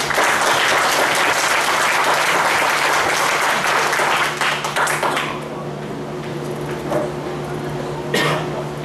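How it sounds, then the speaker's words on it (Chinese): A crowd applauds loudly after a sign-language song performance. Dense clapping fills the first five seconds, then thins to scattered claps and room noise. "我们再一次掌声，快乐伙伴的演出"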